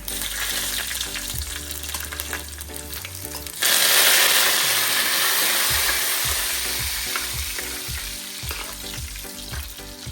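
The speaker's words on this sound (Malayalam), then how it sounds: "നല്ല രീതിയിൽ കളർ മാറുന്ന വരെ മൂപ്പിക്കാം" Grated coconut roasts in a pan for a homemade turkey curry, giving a continuous close sizzle with stirring scrapes, and the hiss grows louder partway through, no talk.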